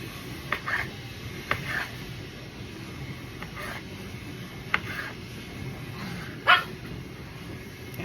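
A pug barks for a tomato in a home kitchen, giving several short, faint yips and barks spread unevenly over a low background hum.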